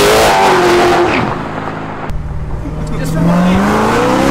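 A Dodge Demon is floored, its engine revving up and dropping with rising and falling pitch, loud and close, with tire noise and brief talk over it.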